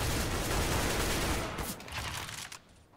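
Sustained video-game gunfire, a dense loud burst of rapid shots filling the first half, then thinning into scattered shots and fading out.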